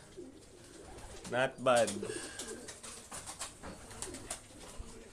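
Racing pigeons back from a 184-mile race from Red Bluff, California coo in soft, low rounds under a man's brief remark, with a louder burst of calling near the middle.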